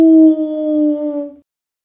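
A wild wolf in a children's animated animal alphabet cartoon gives one long, loud, sustained howl that slowly falls in pitch and fades out, heard alone with no talking.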